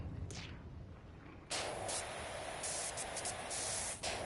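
Pressure washer spraying in the Power Wash Simulator 2 video game, a faint hiss of spray at first, then a loud, steady broadband rush of water jet that cuts in abruptly and runs on with brief dips.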